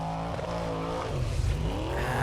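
A Formula Offroad car's engine revs hard at an Icelandic off-road competition in Hafnarfjordur, loud and close with a continuous rising and falling roar over about two seconds, no speech.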